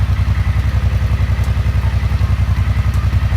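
A 2011 Suzuki C50T Cobra motorcycle with its stock baffled exhaust idles nearby with a steady, even low thumping rhythm, fairly quiet and mellow, with no voices.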